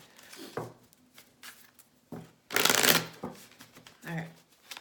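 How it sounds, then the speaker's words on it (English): Tarot cards are riffled and shuffled up close, with a loud burst of rapid flicking in the middle and lighter shuffles around it, a voice speaking briefly. "Let's actually shuffle."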